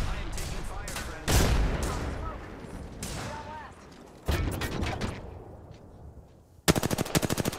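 Rapid gunfire in Apex Legends, with bursts of automatic fire, sharp single shots and a final fast rattling volley, loud and close, while a player talks intermittently.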